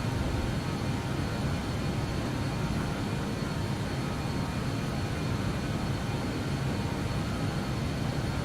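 A BAE146-100 airliner climbs after takeoff in a flight simulator, giving a steady, loud, broadband roar of jet engines and airflow that holds unchanged throughout with no voices.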